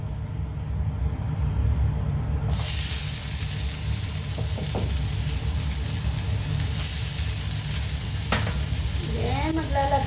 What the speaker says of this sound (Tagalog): magigisa tayo ng ating bawang